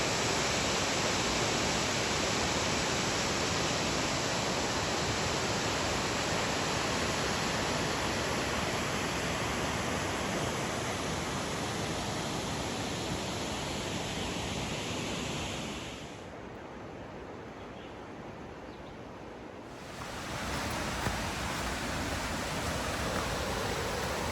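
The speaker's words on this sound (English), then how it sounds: "That there is Whitewater River, what the falls go down into. As you can hear, it's quite loud." Whitewater River falls on a rain-forest trail roaring loudly in a constant broadband rush of heavy water, dense and close, briefly dipping and muffled for a few seconds before returning to full strength.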